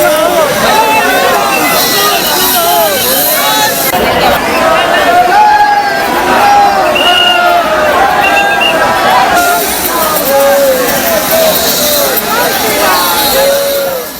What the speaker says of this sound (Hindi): रामलला के दर्शन के लिए देखिए जरा, हजारों लाखों की भीड़ पहुंच रही है।